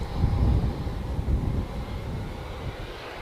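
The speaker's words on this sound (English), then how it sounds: "ATR just landing." An ATR turboprop lands at Manchester Airport, a low, rumbling engine roar heard from a distance, loudest at first and then slowly fading, with no talking.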